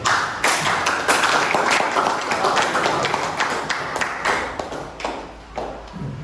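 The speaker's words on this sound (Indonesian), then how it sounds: "tepuk tangan sekali lagi buat kelompok 1" A room of people applauding a group after its presentation, steady dense clapping that thins and tapers toward the end, with some voices mixed in.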